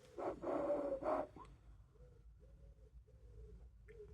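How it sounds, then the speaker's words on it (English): A wood pigeon perched outside gives a series of soft, distant coos in an even rhythm, following a brief louder sound at the start. "Oh, the wood pigeon's back."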